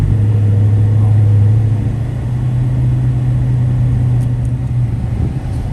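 A Dodge Charger fitted with Rev9 Hyper Street II coilovers rolls over road bumps, a loud close interior engine drone with deep steady rumble throughout, no voices heard.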